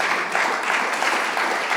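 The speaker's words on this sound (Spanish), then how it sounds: "Dele un fuerte aplauso al Señor" Congregation applauding the Lord during a church service, a brief, steady wash of clapping that holds evenly throughout before cutting off.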